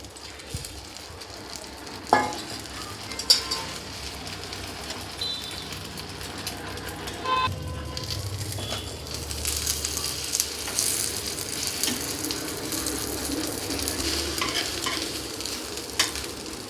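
Eggplant slices topped with a little beaten egg frying in hot oil in a pan, a soft continuous sizzle with occasional sharp clinks and scrapes of a utensil, growing louder and crackling later on.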